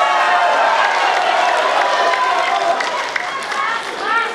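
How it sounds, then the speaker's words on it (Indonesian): An audience applauds loudly at a gubernatorial candidates' debate, a full burst of clapping and crowd noise that stays dense before thinning slightly near the end, with some voices mixed in. "Tepuk tangannya boleh hadirin sekalian"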